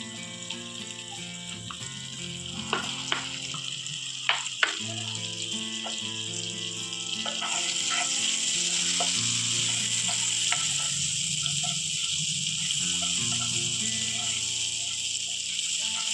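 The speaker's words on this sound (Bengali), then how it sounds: "ডিপ প্যানটাকে বসিয়েছি, গরম হয়ে গেছে। এবার আমি এখানে বাটার দিয়ে দিচ্ছি।" Butter dropped into a hot deep pan melts with a soft hiss, a few light clicks at first, then the sizzle swells and holds steady and close for the rest of the stretch.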